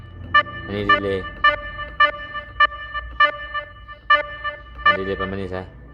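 Delay effect on an Smk 37 audio device: a clear, evenly spaced sequence of sharp harmonic tones pulsing at a steady rhythm, with denser bursts at the start and near the end.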